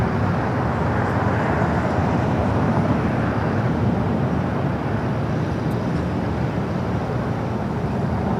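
An Air Tahiti Nui Boeing 787 Dreamliner arrives at Los Angeles International Airport, giving a steady, loud broadband jet rumble throughout with no talk over it.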